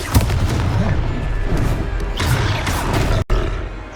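Confringo explosive spell blast in Hogwarts Legacy, a loud, booming burst with a rumbling roar that fills the moment, followed by more crackling impact noise.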